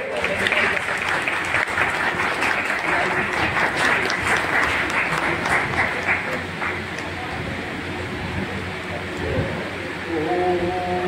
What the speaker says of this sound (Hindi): जोरदार ताली के साथ आप सभी स्वागत करेंगे।